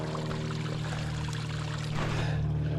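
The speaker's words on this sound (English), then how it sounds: "And this is a spring that" Water pours and trickles steadily from a spring beside the Appalachian Trail, a continuous close rushing over a constant low hum, with no voices.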